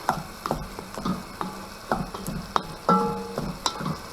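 Pasta stirred into arrabbiata sauce in a frying pan, giving repeated scraping and sloshing strokes over a steady low sizzle, with a few sharper clicks of utensil against pan, close and moderately loud.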